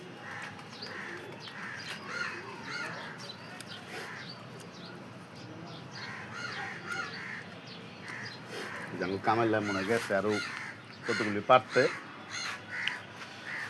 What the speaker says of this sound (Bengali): এই যে কাক চিলাচিলি করতেছে